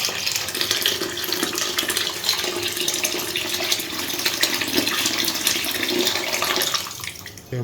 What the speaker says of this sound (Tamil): இந்த டைமில் ஒரு 3/4 லிட்டர் தண்ணி உள்ள சேர்த்துக்கலாம்.